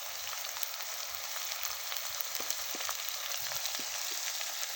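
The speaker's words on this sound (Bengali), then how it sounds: "ওই তেলের মধ্যেই প্রথমে দিয়ে দিচ্ছি পেঁয়াজ বাটা, দিয়ে আমি একটু ভেজে নিচ্ছি" Onion paste and spices, including cumin-garlic paste and dry chili powder, frying in oil: a steady, dense hiss with a few soft pops, close and even throughout.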